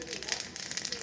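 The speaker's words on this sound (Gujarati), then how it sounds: "જીરું નાખશું" Cumin seeds crackle in hot tempering oil already holding mustard seeds, a quick, dense run of small pops and spits over about a second, fairly faint and close.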